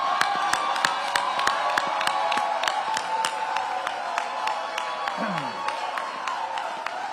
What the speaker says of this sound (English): now we applaud